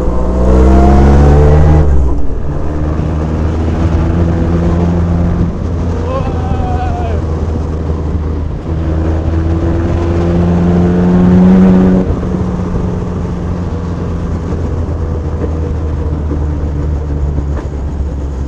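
A Bentley car engine drones and climbs in pitch as it revs while driving, a close, steady rumble with rising tones, heard under people talking in the cabin.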